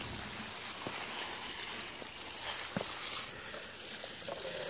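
Water from a garden hose turned up full, running into a French drain used as a long channel drain: a steady close trickling and rushing flow with small splashy ticks, continuous and fairly quiet, no voices.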